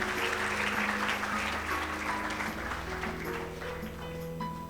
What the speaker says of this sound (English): So a good applause for all the winners who are going to be taking these awards today.